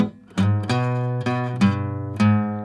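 The bass roll repeats on guitar, five or six bright plucked low notes with sustained ringing, the roll slowing slightly, played solo and close.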